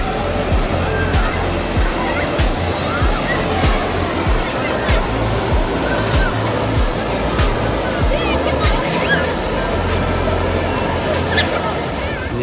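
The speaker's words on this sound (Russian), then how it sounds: "Волна пошла." Waves break and wash on the Caspian Sea shore at a busy beach in Aktau, a loud rolling surf under crowd chatter and people talking nearby.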